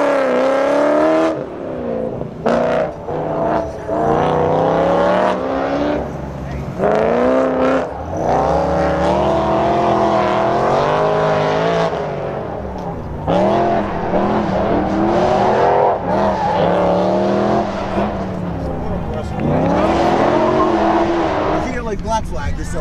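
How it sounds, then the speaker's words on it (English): A loud naturally aspirated V8 car running an autocross course at a supercar charity show, its engine note rising and falling through gear changes with occasional tire squeal, while people talk nearby over it. "I hear in the distance a very loud naturally aspirated V8"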